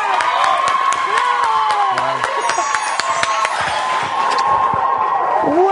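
A television morning show's studio audience claps and cheers to welcome a singer, a steady, loud roar of applause with whoops and shouts running throughout, music underneath.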